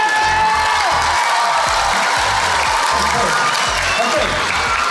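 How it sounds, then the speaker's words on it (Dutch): Steady, loud applause fills a prize-giving ceremony, a dense wash of many hands clapping together with a few faint cheers, holding at an even level throughout. "Applaus voor Michel!"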